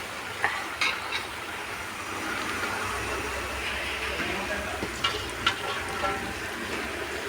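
Chopped long beans, about five kilos, hit a hot pan for an Alappuzha-style mezhukkupuratti, giving a broad steady sizzle with a few scraping stirs and clanks, close and moderately loud, with a voice speaking over it.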